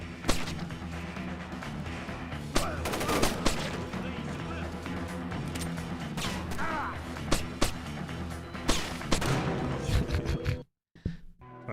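Gunfire in Splinter Cell: Chaos Theory, a series of sharp single shots at irregular intervals over a busy game soundtrack, loud and close, ending in a brief silence with a couple of final cracks.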